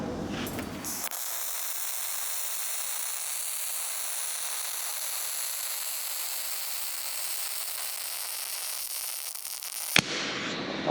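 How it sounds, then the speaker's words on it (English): A welder fixes a part onto a metal bench, giving a steady, harsh crackling hiss that runs unbroken for about nine seconds and ends abruptly, close and loud. "Oh, that doesn't sound like it's welding too good."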